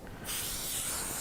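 Adhesive spray hisses from an aerosol can onto a quilt sandwich of fabric and batting, a steady close breathy rush that starts suddenly and holds without a break.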